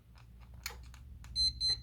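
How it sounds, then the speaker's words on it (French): Alarm clock ringing with two short high electronic beep bursts near the end, after some faint rustling and clicks. "des milliards de réveils qui s'enclenchent tous les jours en même temps"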